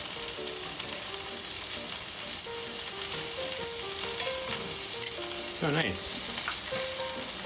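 Keto french fries bubble and crackle continuously in hot oil, a dense loud sizzle with a faint musical tone running underneath, and a person speaks briefly over it.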